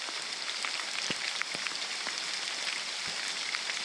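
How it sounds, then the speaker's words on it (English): Rain falls steadily in a forest on a hike, a soft, even hiss with scattered nearby drips and patters, with no voices. "Isn't the rain amazing?"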